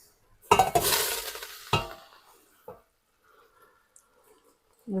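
Drained pasta is tipped back into a pot, a short clattering rush of noodles and metal followed by a couple of isolated knocks, then quiet.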